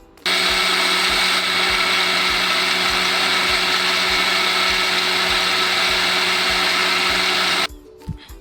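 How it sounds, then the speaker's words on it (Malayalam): Electric mixer grinder whirring steadily as it grinds soaked rice with coconut and water into dosa batter, a loud continuous motor drone that stops abruptly near the end. "ആവശ്യത്തിനുള്ള വെള്ളവും തേങ്ങയൊക്കെ ആഡ് ചെയ്തിട്ട് അരച്ചെടുത്ത് ദോശയുടെ മാവ് റെഡിയാക്കി എടുക്കുകയാണ്"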